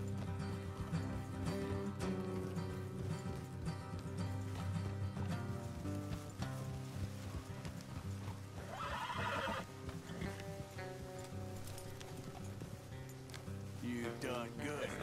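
Horses gallop in the video game Red Dead Redemption 2, with rapid hoofbeats and occasional whinnies under a dense bed of game music and effects, while voices talk over the action.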